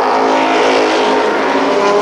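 Race cars roar together at Columbus Motor Speedway, a loud, dense, sustained engine drone with layered overlapping engine tones holding steady throughout, close and continuous, no talk.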